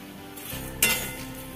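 Vermicelli roasting in oil in a pan while being stirred, a soft sizzle broken by a sharp metallic clink of utensil against pan partway through.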